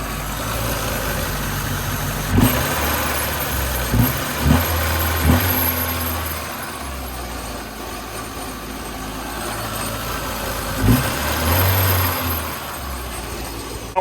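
Rebuilt engine of a 1986 Dodge Shelby Daytona idling steadily up close, a low continuous hum with a few brief blips of revs rising over the drone.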